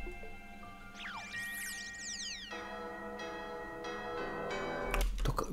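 Bright bell tones ring out with swooping chimes, then settle into a sustained ringing that ends in a sudden noisy burst.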